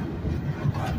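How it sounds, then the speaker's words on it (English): Low rumbling inside a moving passenger train, a dense steady hum with faint rattling, brief and continuous. "Pretty good to be riding a train again"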